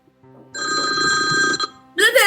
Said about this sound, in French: Le téléphone sonne, le téléphone.